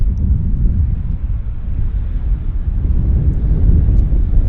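A Beechcraft 1900 turboprop landing at Vancouver airport, heard as a steady, loud low-frequency engine roar with wind buffeting the microphone, continuous throughout with no voices.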